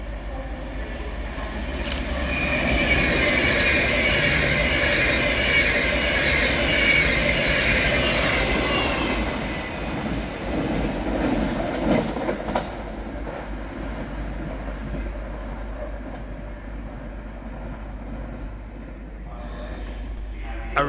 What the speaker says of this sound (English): Flying fast through the middle is 390-11016, working 1M06 from Glasgow Central to London Euston.